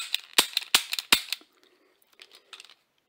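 Three sharp cap pops go off one after another from a 3D-printed four-barrel derringer toy, close and loud, followed by faint plastic clicks and rattles as the mechanism is handled.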